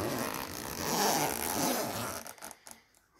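A zipper on a guitar case is pulled open in one long, fairly loud rasping run that ends in a few short tugs and then quiets.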